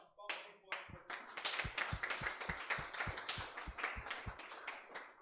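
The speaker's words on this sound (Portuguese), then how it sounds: "Receba o servo de Deus com as palmas bem fortes para Deus" A church congregation claps in a steady rhythmic beat, the claps coming fast and even over a few seconds, with voices mixed underneath.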